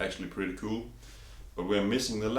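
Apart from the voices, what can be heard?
None of the usual background noises is heard.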